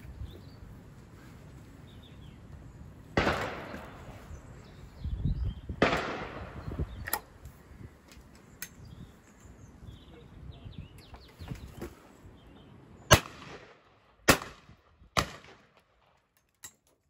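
A Purdey 12-bore side-lock ejector shotgun fires twice at a simulated driven pair, two sharp reports a few seconds apart, followed by several crisp mechanical clicks and snaps as the gun is opened.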